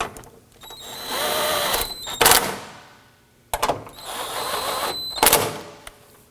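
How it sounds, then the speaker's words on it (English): A power impact driver tightens radiator bolts on a 2018-2024 Toyota Camry 2.5L four-cylinder. It makes two whirring bursts, each about one and a half seconds long, and each ends in a quick rattle of sharp hammering clicks, close by. "It is safe to go ahead, if you want to, use your impact driver."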